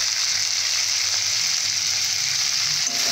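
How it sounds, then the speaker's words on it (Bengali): Rohu fish with peas stir-fries in a hot pan for a curry, a loud, continuous close sizzle and crackle throughout with no voices. "এইভাবে কষে নেব।"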